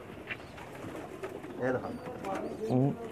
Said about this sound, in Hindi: ये मेरे वो कबूतर हैं जो मुझे बहुत महबूब है